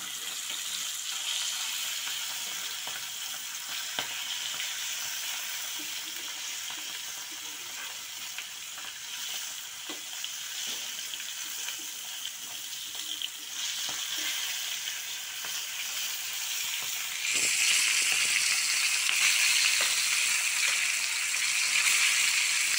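Hilsa fish fries in hot oil in a pan with a continuous close sizzle that holds steady and then swells louder and brighter toward the end.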